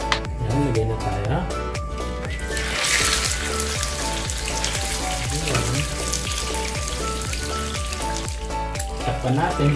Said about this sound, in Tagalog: Prito na tayo ng bangus.